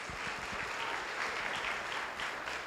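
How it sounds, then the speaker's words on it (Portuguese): A church congregation applauds during a sermon, a brief, steady burst of many hands clapping together with some low thumps underneath. "vamos aplaudir ao Senhor"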